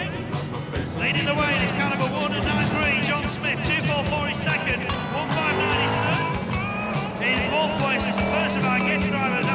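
Race cars on a circuit with a car spinning out into the tyre barrier, engines droning loudly and continuously with tyre squeal and skidding, under steady commentary.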